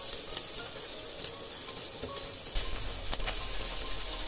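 Whole cumin seeds and green chillies sizzle in hot oil in a pan while a Bengali fish curry is cooked, a steady close crackling hiss with occasional stirring scrapes.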